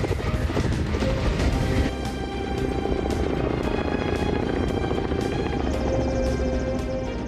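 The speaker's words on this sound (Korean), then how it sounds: "시원한 물줄기를 뿜으며 헬기가 상공을 가릅니다." A wildfire-fighting helicopter spraying water roars loudly overhead, its rotor beating in a steady, continuous drone that holds throughout.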